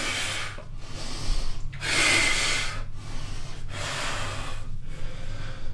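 Person exhaling forcefully during a T-bar row back exercise, several breathy bursts separated by short pauses, close and moderately loud, with no talk over it.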